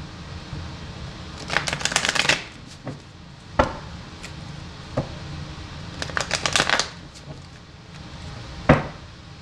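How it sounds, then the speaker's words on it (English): Cards riffle-shuffled twice in quick rattling bursts, with a few sharp taps and knocks between them, close by and no talking. "So let's shuffle these again also."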